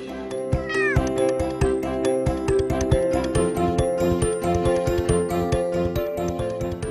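Dozens of cats crowd a two-room apartment, meowing over one another in a dense, overlapping chorus of cries and caterwauls that never lets up, loud and close.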